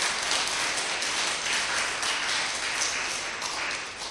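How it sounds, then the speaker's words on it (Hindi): A large audience at a devotional talk on Hanuman claps steadily, the dense even applause holding at full strength throughout and easing slightly just before the end. "आप मुस्कुराना छोड़ के ताली बजा रहे हो।"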